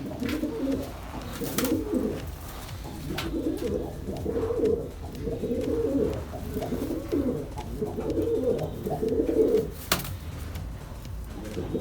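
Several pigeons in an underground breeding loft coo close by in repeated low, throaty phrases, with a few brief clicks and rustles in between.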